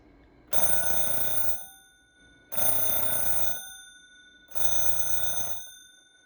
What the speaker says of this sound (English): this clock uses two brass bells for the alarm,